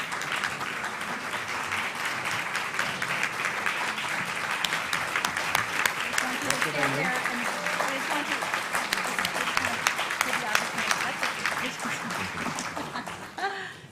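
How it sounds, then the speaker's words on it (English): Sustained audience applause fills a hall at an awards ceremony, many hands clapping steadily and loudly for the full stretch, with a few voices and light laughter mixed in before it tapers at the end. "so you could get a little bit more of the applause"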